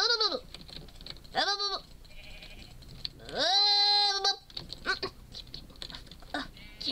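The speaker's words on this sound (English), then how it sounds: "I do not like the sheep on Chaos Craft." Sheep in the video game Minecraft bleating repeatedly, several drawn-out wavering calls, one long and loud, over a steady background of game noise.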